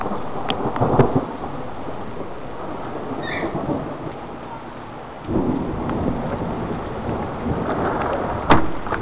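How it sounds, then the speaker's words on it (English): Thunder rumbles through a severe thunderstorm with hail and heavy rain, two deep rolling peals rising over a steady hiss of rainfall, one early and one later, with a sharp crack near the end. "First official severe thunderstorm of the year for me."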